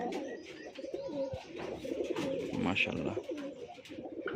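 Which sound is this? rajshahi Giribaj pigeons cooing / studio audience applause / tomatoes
rajshahi Giribaj pigeons cooing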